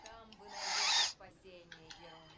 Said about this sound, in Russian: Летающие сова.